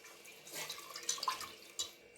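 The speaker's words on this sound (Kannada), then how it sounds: "ಅದಕ್ಕೆ ಒಂದು ಐದು ಬೌಲಷ್ಟು ನೀರನ್ನು ಹಾಕಿರಿ" Water is poured into a cooking pot for dal khichdi, a soft, faint splashing and trickling with a few brief bright drips near the end.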